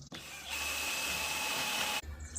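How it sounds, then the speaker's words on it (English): An electric drill pre-drills holes in wood for a bench seat, running as one steady, close whir for about a second and a half between brief quieter pauses. "So we're just going to pre-drill."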